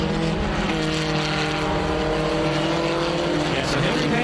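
A Doran JE1 race car at Mid-Ohio during a vintage race, its engine a loud, continuous roar with layered harmonic tones and slight pitch shifts as it works through the track.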